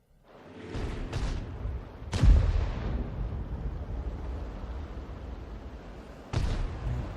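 Heavy tank cannon fire in a tank battle video game: several deep booming shots with long rumbling decay, one followed by another blast near the end, loud against a steady background.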